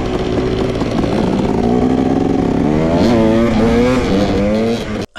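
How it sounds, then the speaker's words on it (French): Motorcycle engine with a badly tuned carburetor revving loudly up close, pitch climbing and wavering unevenly over several seconds before cutting off abruptly near the end. "comme tu as pu constater, la moto elle est inréglable"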